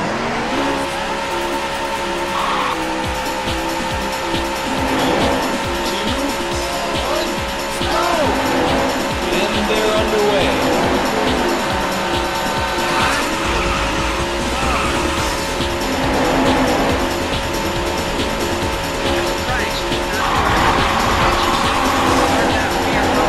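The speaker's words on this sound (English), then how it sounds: "Gentlemen, start your engines." Race car engines roar continuously in the Daytona USA arcade racing game, dense and loud with shifting engine pitch, ratcheting mechanical effects and tire squeals throughout, with a brief dip partway through and a voice occasionally heard under the din.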